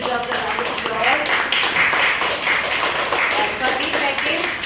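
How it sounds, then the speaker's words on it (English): A meeting audience gives a round of applause, with dense, steady clapping that carries on throughout, mixed with a few voices. "I think she deserves a round of applause"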